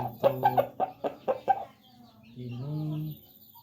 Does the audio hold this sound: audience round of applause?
no